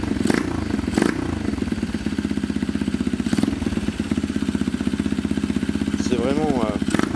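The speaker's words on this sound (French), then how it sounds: "On remet le contact et on démarre." A Honda DAX 50cc moped engine idles with a loud, close, steady puttering rhythm and a few sharp clacks, and a person talks over it.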